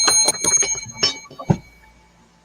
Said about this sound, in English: Bell. Ding, ding,